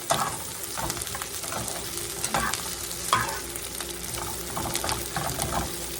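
Onions fry in a pan with a soft, crackling sizzle, broken by scraping stir strokes and a few clacks of a utensil, close and without any talk.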